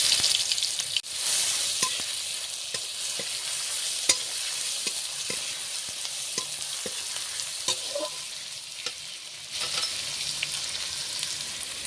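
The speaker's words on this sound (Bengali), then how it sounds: "এরপর আমি 5 ফুটন দুটো দিয়ে দেবো। যে রসুন বাটাটা দিয়ে দিলাম।" Garlic paste frying in hot oil for a pumpkin and red lentil dish, a steady bright sizzle throughout with occasional spoon scrapes and stirring clicks, close and continuous with no talking.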